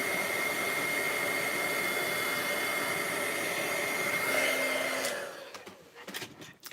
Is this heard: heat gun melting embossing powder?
yes